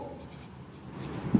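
Chalk or a marker scratches briefly across a board in a classroom, a quiet rubbing stroke ending in a slightly louder tap, no talk.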